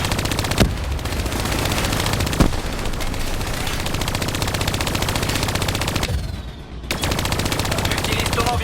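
A hijacked turret in Call of Duty Black Ops III fires in long, loud sustained bursts of rapid automatic gunfire, with a couple of sharper shot peaks and a brief lull before the firing resumes.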